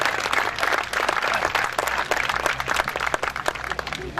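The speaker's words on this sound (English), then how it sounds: "Nice round of applause for the Boy Scouts" A large outdoor crowd at a Kings Park, New York fire department centennial celebration gives the Boy Scouts a dense, sustained round of applause, steady and loud throughout with no talk over it.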